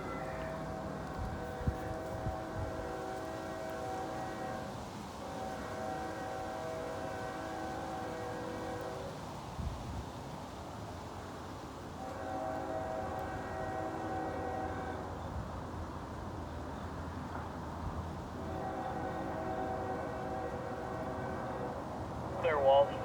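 A CSX freight train horn sounds in several long, loud blasts over a steady low rumble of rolling rock cars.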